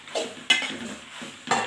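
Pasta is stirred in a pan on the stove with a utensil, producing several distinct scraping strokes against the metal over a soft sizzle, close and fairly loud.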